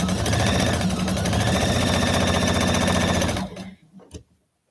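A sewing machine runs steadily at a fast, even stitching rhythm through quilt fabric for a few seconds, close and loud, then stops with a faint clunk.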